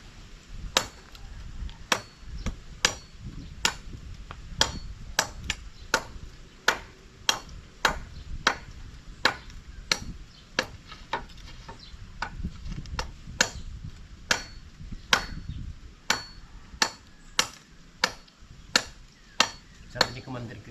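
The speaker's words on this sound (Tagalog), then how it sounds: "Yung martilyo nga pa." Hammer blows land in a steady rhythm, with about thirty sharp, ringing strikes that sound close and distinct, over low background noise and faint voices.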